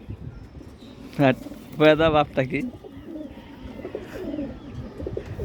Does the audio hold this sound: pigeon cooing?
yes